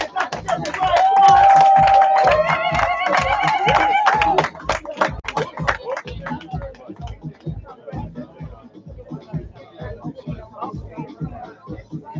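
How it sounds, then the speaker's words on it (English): An audience claps and cheers for Sister Rosland Jeffries at a live gathering, dense rhythmic clapping with whoops that starts loud and thins into scattered claps under a speaking voice and crowd murmur. "Give a round of applause to Sister Rosland Jeffries"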